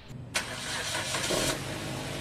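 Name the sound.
Suzuki Ertiga engine starting after oil flushing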